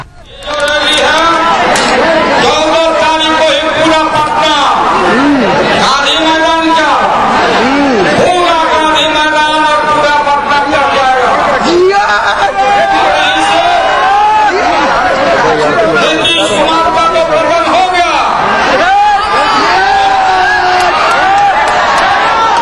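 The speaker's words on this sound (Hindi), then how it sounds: "इस मौके पर लोगों की भारी" A large crowd chatters at an RJD political gathering, a loud, dense babble of many voices close by with occasional shouts and cheers rising above it throughout.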